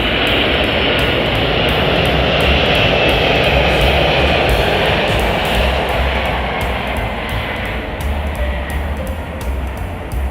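McDonnell Douglas MD-11 airliner landing at Chicago O'Hare, a loud, steady broadband jet roar that holds throughout and eases slightly toward the end, with no talk over it.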